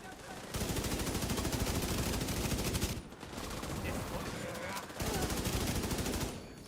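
Automatic gunfire in The Division 2, loud, continuous bursts rattling for several seconds, a short pause near the middle, then another sustained burst, with faint voices underneath.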